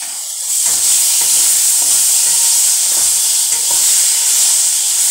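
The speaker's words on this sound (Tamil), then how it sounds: "இப்போ இந்த வெங்காயம் நல்லா வதங்கிடுச்சுங்க. இதில் ரெண்டு தக்காளி போடும்." Onions and tomatoes sauté in oil in a pan, a steady close sizzle with soft stirring scrapes recurring every second or so, no voices.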